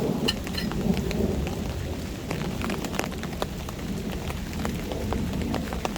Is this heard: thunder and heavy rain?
yes